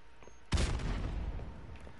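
A grenade explodes in Call of Duty: Modern Warfare 2 (Remastered), one sudden loud, close boom with heavy low rumble that settles into a long, noisy decaying roar.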